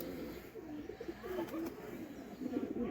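Nayra pigeon cooing close by, soft low repeated coos rising and falling over a faint background hush.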